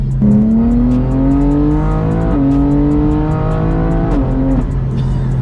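A BMW M4 Competition's 3-liter twin-turbo inline-six S58 engine revs hard and loud, climbing in pitch through three gear pulls with brief dips between shifts, a continuous roaring drone.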